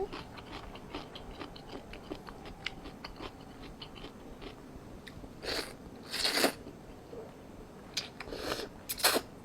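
Crunchy food bitten and chewed close up, a few louder crisp crunches in the second half over a steady low background hum.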